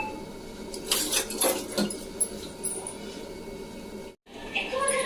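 A metal lid clatters onto a cooking pot of frying mutton curry, producing a few sharp clinks early on over steady sizzling while someone talks.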